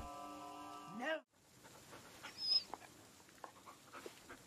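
A dog whimpers in the horror game Blair Witch, a brief rising whine near the start followed by faint rustling and soft ambient sounds.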